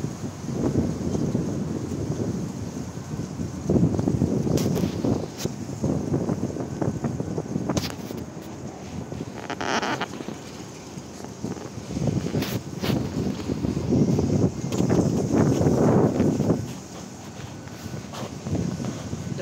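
Strong gusting wind during a dust storm in Kuwait, a broad rushing roar that buffets the microphone, swelling and easing in surges over roughly twenty seconds with occasional knocks and rattles.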